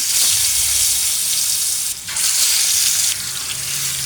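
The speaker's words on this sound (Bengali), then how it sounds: "এখানে আমি একটা চ্যাপটা কড়াইতে পরিমাণ মতো তেল দিয়ে গরম করে নিয়েছি এখন মাছগুলো দিয়ে দিচ্ছি" Pieces of rohu fish frying in hot oil in a flat pan, a loud continuous close sizzle that dips briefly midway as pieces go in, with faint low clatter underneath.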